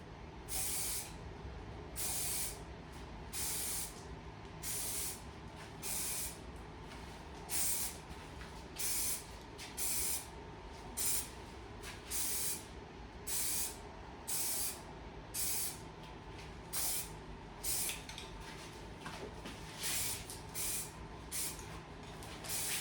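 Spray gun laying a base coat of paint on a firearm part before hydro-dipping: short hissing blasts repeat at a steady rhythm with brief gaps between, close and fairly quiet, with no voices.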